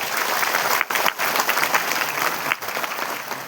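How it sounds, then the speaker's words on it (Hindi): Loud, dense applause from an audience honouring doctors, continuous clapping with a couple of brief dips, no talking over it. "देश के सभी डॉक्टर्स के लिए इस जागरूकता के लिए जोरदार तालियां होनी चाहिए इन सब के लिए"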